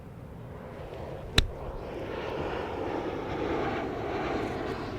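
Steady broadband drone of a fixed-wing airplane passing overhead above a golf driving range, rising gently in loudness across the clip after a single sharp club strike on a ball near the start.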